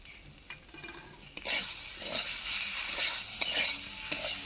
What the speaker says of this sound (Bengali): ধনে পাতা কুচি দিয়ে একটু নেড়ে নামিয়ে নেব